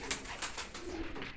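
Jonsiry fancy pigeons cooing close by in a short burst of soft throaty coos, several notes in quick succession.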